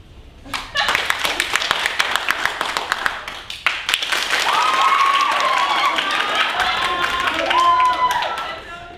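An improv comedy audience claps to vote a performer off, loose uneven hand claps and thumps swelling into steady applause, with voices and cheering rising over it.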